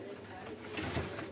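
Pigeons coo on a rooftop loft, a soft low murmur swelling briefly near the end over steady background hiss.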